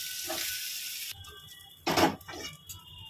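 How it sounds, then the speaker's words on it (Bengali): Prawns frying in hot oil in a home kitchen, a soft hiss and crackle broken by short louder sizzling bursts as they are moved in the pan, quiet and close, no voices. "প্রথমে আমি চিংড়ি মাছটা ভেজে নিলাম।"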